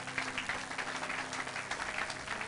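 A church congregation applauding for the glory of God, steady sustained clapping from many hands filling the room throughout.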